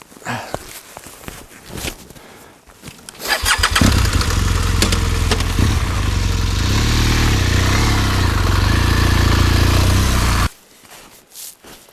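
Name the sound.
off-road motorcycle engine starting and riding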